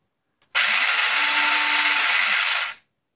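Motors of a telepresence robot grind through their plastic gears in one loud, steady whir that starts abruptly, holds for about two seconds and cuts off, close and alone.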